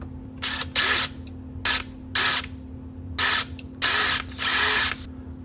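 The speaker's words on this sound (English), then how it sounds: "take that hub off and pop that new one on" A power tool spins off the hub of a radio-controlled car wheel in short repeated bursts of whirring, about six pulses separated by brief pauses, close and loud over a steady hum.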